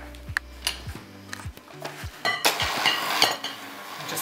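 A whisk beats full-fat mascarpone and caster sugar in a bowl, with repeated scraping and clinking strokes against the sides. The rhythm is irregular, then turns to a busier, brighter stretch of quick stirring, close and clear with no talking.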